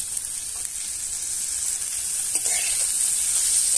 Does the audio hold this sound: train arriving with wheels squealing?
no